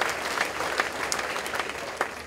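Annual meeting audience applauding a board member from District 2, a steady crowd clapping of moderate loudness across the whole stretch with a few sharper claps standing out.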